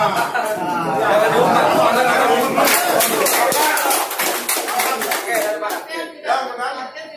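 Applause at a community meeting with a district police chief and local NGO members about COVID-19: many hands clapping steadily and loudly for several seconds, mixed with chatter and some chuckling, then tapering to scattered claps.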